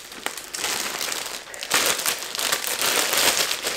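Packaging around a Marc Jacobs tote bag being unwrapped, giving close, continuous crinkling and rustling of plastic or paper that swells louder halfway through, with no talk over it.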